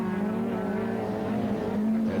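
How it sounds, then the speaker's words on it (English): A rallycross race car with a Ford Pinto engine races at Mondello Park in 1989, its engine droning steadily at high revs with a slight pitch shift, heard close and continuous. "Andrew Orr, the mechanic from Balnahinch, in his Pinto engine car in second place"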